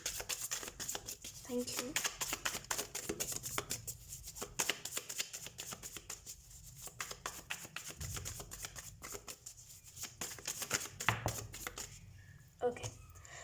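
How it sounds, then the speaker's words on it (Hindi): Tarot cards being shuffled by hand, a steady run of quick crisp riffling flutters with short pauses between bursts, close and fairly soft, with a voice speaking briefly near the end. "सबसे पहले हम कार्ड शफल कर लेते हैं।"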